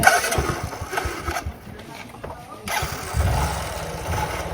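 A motorbike engine cranks and catches, rumbling close by with a brief lull midway before revving back up, under some background voices in a village.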